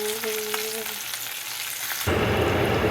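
Bacon frying in a pan on a home cooking show gives a steady, close crackling hiss. Partway through, a louder, denser burst of sizzle takes over.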